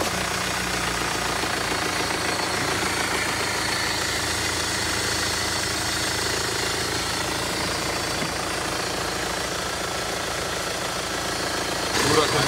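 A used car's engine on a Hamburg gravel-lot dealer's yard idles loudly and steadily, a rough, knocking rumble that continues unbroken throughout, with a brief louder surge near the end.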